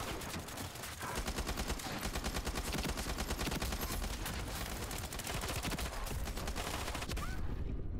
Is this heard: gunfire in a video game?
yes